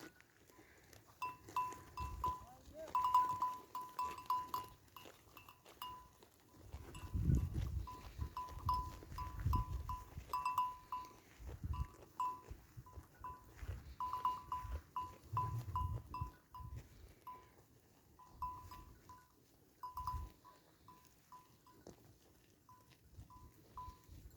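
Sheep bleating intermittently at a distance over an outdoor background, with a steady high chirping of insects or birds throughout.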